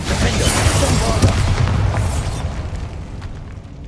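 The Bombarda spell in Hogwarts Legacy bursts with a deep rumble, then a fading, crackling roar that tails off over a few seconds.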